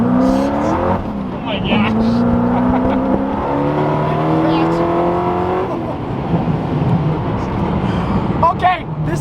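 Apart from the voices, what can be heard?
Hennessey Venom GT accelerating at full throttle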